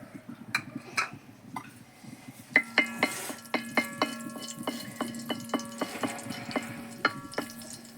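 Whole cloves, a small piece of cinnamon and cardamom pods dropped into hot oil for an egg curry, giving light sizzling with sharp clinks of a utensil against the pan, close and fairly quiet.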